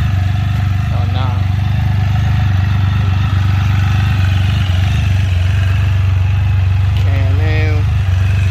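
A Can-Am Spyder three-wheeled motorcycle's engine runs steadily at a low, even idle throughout, close and loud, with brief clatter near the end.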